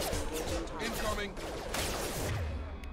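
Rapid gunfire in Mass Effect 2 during a colony firefight, with dense bursts of shots and crashes layered under game voices and music, loud and continuous.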